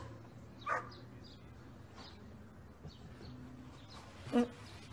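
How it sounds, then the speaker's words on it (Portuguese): Two sharp dog barks, one early and one near the end, rising from a quiet, hum-filled background some distance away. "Será que dava pra esse cachorro parar de latir?"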